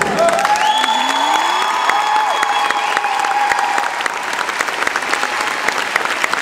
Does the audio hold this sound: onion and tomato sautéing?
no